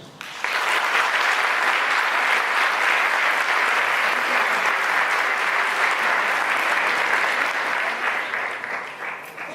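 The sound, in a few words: audience applause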